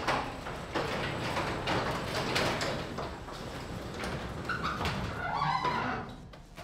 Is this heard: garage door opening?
yes